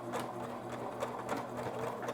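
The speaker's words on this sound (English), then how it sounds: "Go ahead and backstitch to start." A sewing machine backstitches along fabric while sewing a drawstring onto a shoe cover, giving a steady, fairly quiet mechanical whir that runs evenly throughout with a soft rhythmic stitching chatter.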